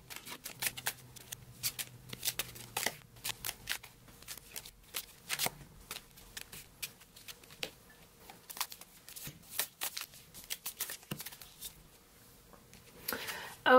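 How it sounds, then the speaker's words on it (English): Tarot cards being speed-shuffled, a rapid run of crisp riffling slaps and flutters repeating in uneven bursts for several seconds, close and clear. "I'm going to do the speed shuffling again"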